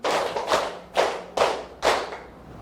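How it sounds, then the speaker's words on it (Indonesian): Group of students clapping in unison in a classroom, five loud, sharp claps in a steady beat, each ringing briefly in the room before the next. "Tepuk 1, tepuk 2, tepuk 3, tepuk 4, tepuk 5"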